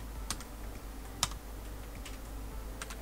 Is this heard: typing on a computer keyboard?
yes